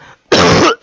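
A single loud, close cough bursts out sharply from a person while playing a Roblox shooter game, followed at the very end by the start of a second cough.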